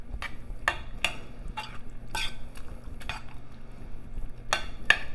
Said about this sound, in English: So we're just stirring the cheese in.